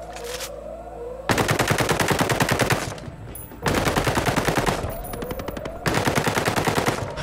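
Machine gun fire in the video game Ghost Recon Breakpoint, loud rapid bursts of automatic shots in three sustained strings separated by short pauses, with echoing tails and no talk over them.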